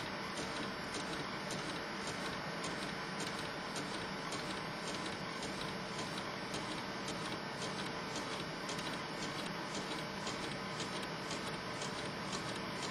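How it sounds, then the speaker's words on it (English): Robotic disc duplicator with a built-in printer turning out printed discs, heard as a steady mechanical whir with rapid regular ticking that runs faintly and evenly throughout. "You can see our discs starting to come out from the printer now."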